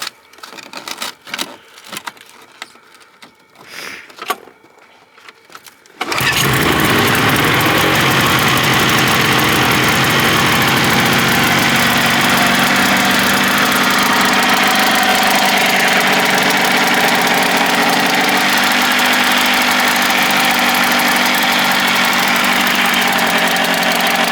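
A $250 snowmobile engine in cold outdoor weather: a few rough cranking bursts, then it catches around six seconds and settles into a loud, steady, buzzing idle up close that runs without a break.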